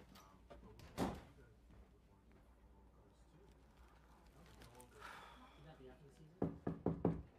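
Knocking on a door in a domestic drama scene, one knock near the start and then a quick run of four sharp, loud raps near the end, with quiet talk and room noise in between.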